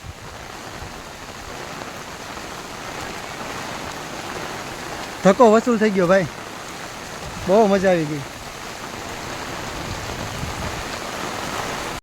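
Heavy downpour at Junagadh's Uparkot Fort, a steady, dense hiss of rain filling the whole stretch, with a voice speaking briefly twice over it.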